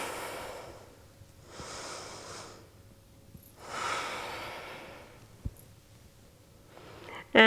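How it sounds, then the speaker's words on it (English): Slow, deep breaths in and out during a standing spinal mobility exercise, three long airy exhalations spaced a couple of seconds apart, close to the microphone and otherwise quiet. "So inhaling to open, exhaling to change sides."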